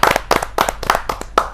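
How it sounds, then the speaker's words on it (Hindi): Audience at a Hindi poetry gathering clapping for a poet, a short burst of sharp, separate hand claps in an uneven rhythm, close and fairly loud. "सीमा एस दहिया जी, जोरदार तालियों के साथ"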